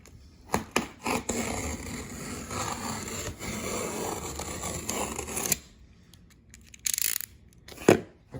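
A cardboard shipping box for a CR10S-MAX 3D printer is sliced open with a blade, a close, continuous tearing rasp for several seconds, followed by a few shorter scrapes and rustles.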